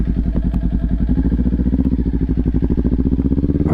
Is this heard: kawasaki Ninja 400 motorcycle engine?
yes